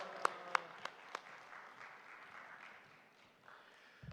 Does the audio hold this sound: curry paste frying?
no